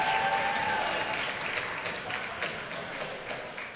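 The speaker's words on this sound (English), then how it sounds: "Round of applause once again for Ann" Fundraiser audience applauding, a dense wash of many hands clapping that holds steady and then slowly thins, with a few voices mixed into the crowd noise.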